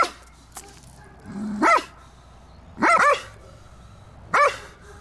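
A frightened Belgian Malinois barks three times at intervals, each bark sharp, loud and close against a quiet background, with a faint whimper or yip between.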